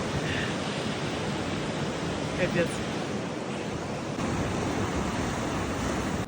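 Ocean surf rolling onto an open beach on a warm-country holiday trip, a steady broadband wash of breaking waves heard up close, with a brief spoken exclamation over it.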